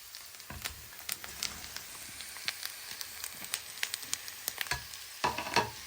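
Fennel seeds, curry leaves and pre-fried elephant foot yam sauté in a pan, with a crackling sizzle broken by sharp pops and stirring scrapes, close and unvoiced.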